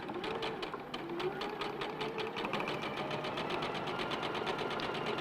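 A sewing machine runs steadily while chain piecing quilt blocks, its rapid needle strokes forming an even, continuous rattle at close range, with no talk over it.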